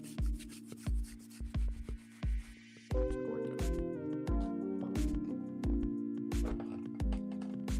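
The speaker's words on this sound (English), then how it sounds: "keep in mind, this is a hard bristle brush. This isn't a soft one." A hard-bristled brush scrubs a nubuck suede sneaker up close in quick, rhythmic back-and-forth strokes, each one a dry scratchy rasp; about midway, steady tonal background music rises beneath the continuing scrubbing.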